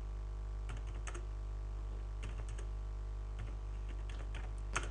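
Typing on a computer keyboard to enter Farsi (Persian) text in Windows 7: bursts of light, quick key clicks in short clusters with pauses between, close and faint over a steady low hum.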